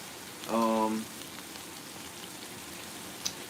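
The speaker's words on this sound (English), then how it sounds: "I hope y'all can hear me over that rain." Rain falls outside as a steady, soft, even hiss throughout. A short burst of voice rises over it near the start.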